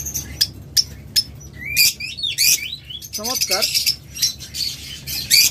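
A rare-mutation opaline pet bird chirps, with sharp tweets, squawks and rapid warbling calls close by, interrupted by someone speaking briefly.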